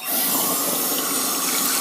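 Water pours continuously through a small toy pipe body washer, a close, steady rushing and splashing stream with no pauses.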